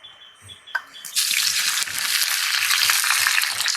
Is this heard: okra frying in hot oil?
yes